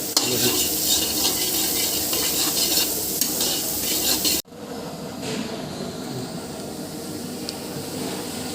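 Kashmiri chicken sizzles in a pan as dried kasuri methi is stirred in, a loud steady frying hiss with metal scraping and clinking, briefly cutting off midway before resuming slightly quieter.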